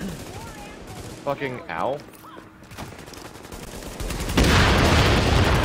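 Enemy machine gunners in The Division open up with dense, sustained automatic fire, loud and continuous at the end, after a short stretch of a man cursing in pain and scattered combat noise.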